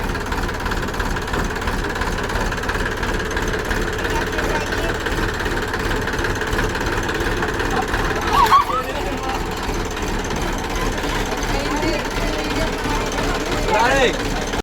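A tractor engine runs in a steady, loud, low chugging rumble with constant vibration throughout, and a couple of brief louder knocks stand out; voices are heard over the engine.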